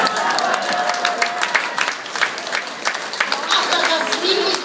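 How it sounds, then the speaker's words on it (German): Carnival crowd at a Swiss Fasnacht event applauding, with steady clapping from many hands mixed with crowd noise and voices throughout. "Jetzt möchten wir noch gerne einen Applaus für unsere Heldenträger aus Kräftigen."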